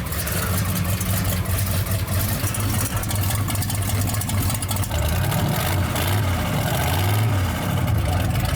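A hot-rodded old truck engine idles with a deep, loud, steady rumble and rises in a few swelling revs near the end, with people talking faintly underneath.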